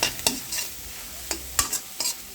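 Several sharp scrapes of a utensil stirring duck eggs being scrambled in a pan over a soft, steady sizzle of frying, close and fairly quiet, with no voices.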